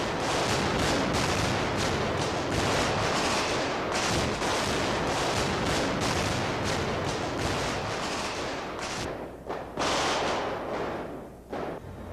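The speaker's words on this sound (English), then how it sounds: "the scene is shot with the bazookas and the automatic rifles, resulting in a hail of gunfire" Dense, continuous gunfire from bazookas and automatic rifles on a film set battle scene, loud overlapping bursts and booms that briefly thin out near the end.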